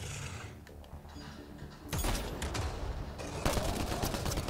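Gunfire cracks out in a Mass Effect: Andromeda firefight as scattered, fairly loud bursts over a noisy mechanical background, growing denser in the second half.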